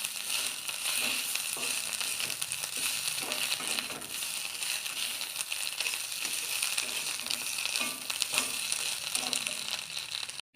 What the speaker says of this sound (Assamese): মই ইয়াতে আলুখিনি দি দিছোঁ।